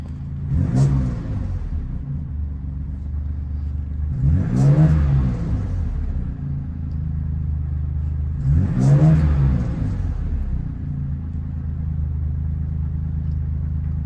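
A 1972 BMW Bavaria with a performance exhaust idles with a deep steady rumble, swelling into three evenly spaced revs about four seconds apart, close and loud, no talk.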